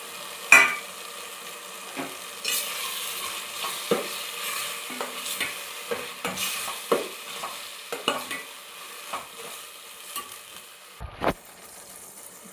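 Masala sizzles steadily in a pan for crab gravy while a utensil scrapes and stirs, giving repeated clinks and scrapes over the constant frying hiss.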